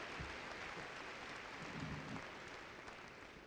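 Graduation audience of parents applauding at a high school commencement, a steady wash of many hands clapping that fills the whole moment at a moderate, distant level.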